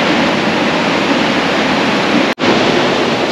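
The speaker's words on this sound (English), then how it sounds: "This is the first waterfall encountered." Aira Force waterfall in the Lake District, heard as a loud, unbroken roar of rushing water close by, with a single sharp momentary dropout partway through.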